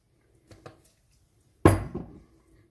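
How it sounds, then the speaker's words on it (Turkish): Hatay Belen tava ingredients stirred in a pan, with two small clinks followed by a single loud scraping clatter of utensil against metal that fades out. "Ve tekrardan hepsi tamamen birbirine geçecek şekilde karıştırıyorum."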